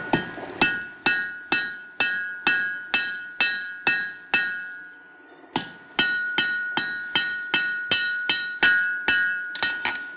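Hot wrought iron bar being hammered to scarf it for a forge weld: loud, evenly spaced ringing hammer blows on an anvil, a brief pause midway, then a second quicker run of strikes.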